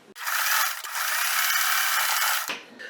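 A sewing machine runs in one continuous whirring burst, stitching a fleece pajama waistband closed, starting abruptly and stopping after a couple of seconds, close and fairly loud.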